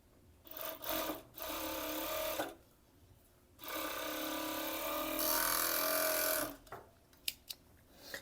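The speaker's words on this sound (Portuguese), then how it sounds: "vou passar a costura aqui no centro das costas" A sewing machine stitches the center back seam of a cheeky bikini bottom, running in several bursts of steady mechanical whirring separated by short pauses, ending with a few sharp clicks and taps close by.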